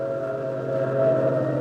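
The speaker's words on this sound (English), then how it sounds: "He's trying to beat that train to the crossing." A train in an old-time radio mystery drama approaches a railroad crossing, a sustained wailing whistle tone over low rumbling that swells slightly toward the end, with no talking.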